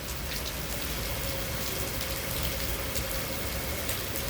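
Heavy rain pours steadily in Sham Shui Po, Hong Kong, a dense, even patter of drops hitting surfaces nearby, with no voices.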